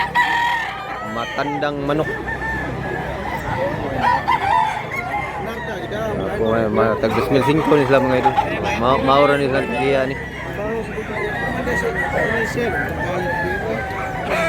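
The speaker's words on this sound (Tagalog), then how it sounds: "Matandang manok." An old three-year-old fighting rooster crows repeatedly among clucking fowl, with several loud crows rising over someone talking close by throughout.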